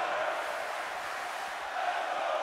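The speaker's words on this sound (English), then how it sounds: "And the crowd are right behind Zack Ryder here, but God, he's going to need it." A wrestling arena crowd in the WWE 2K17 video game roars steadily during a SmackDown match, a dense, sustained wash of cheering and chanting with no clear breaks.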